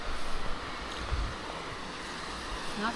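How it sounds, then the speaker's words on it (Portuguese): Artificial waterfall at Lago di Tenno, a steady broadband rush of falling water heard up close, continuous and fairly loud with no voices over it. "Ó, aqui já tem uma cachoeira."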